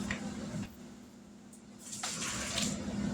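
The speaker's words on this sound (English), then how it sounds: "We're going to set these back in the canner and take out some more" Hot glass canning jars of stewed tomatoes are set back into a water-bath canner, with splashing and sloshing water in two bursts separated by a quieter pause, close by.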